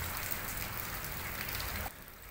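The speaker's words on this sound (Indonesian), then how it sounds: "beberapa daerah di Lampung mulai diguyur hujan" Steady rain falls, a dense even hiss of drops striking a surface, loud and continuous before easing abruptly near the end.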